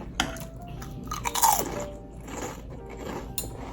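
Crispy deep-fried taro wrapped in tofu skin, reheated in an air fryer, is bitten and chewed near the microphone, giving a few sharp crunches followed by quieter chewing, with no talking.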